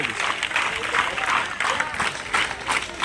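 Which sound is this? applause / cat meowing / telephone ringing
applause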